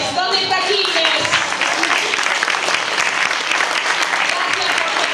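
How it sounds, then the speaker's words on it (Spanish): Steady, dense applause from a seminar audience welcoming presenters at a talk on divorce law and the family home, loud and continuous throughout with voices mixed into the clapping. "Un aplauso a Quilmes"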